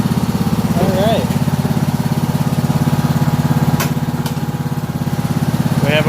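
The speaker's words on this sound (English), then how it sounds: "We have a working mower." An LX420 lawn mower engine runs at a steady, rapid idle close by, loud and even throughout, with a person speaking briefly over it and a couple of faint clicks.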